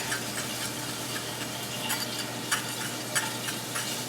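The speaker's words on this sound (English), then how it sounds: "half of a lemon. And I'll beat this all up." Whisk or fork beating a salad dressing of oil and half a lemon's juice in a bowl, a steady close scraping and swishing with faint tapping clicks against the container, no voices.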